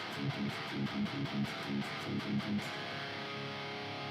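A clean electric guitar with no stereo delay plays a short rhythmic picked pattern, dry and without echo, then lets the last notes fade out.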